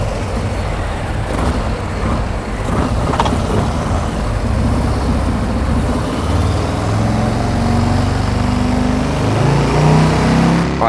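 A Harley-Davidson motorcycle engine runs on a dyno with a loud, steady low rumble. Its revs climb and rise in pitch through the second half, close up, with no talking.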